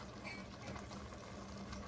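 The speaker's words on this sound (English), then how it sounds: "2 cups of water, and you need this to make sure that the tuver or pigeon peas are cooked thoroughly." Two cups of water are poured into a cooking pot to cook pigeon peas with eggplant, producing a steady, soft rushing and splashing of liquid with no talk over it.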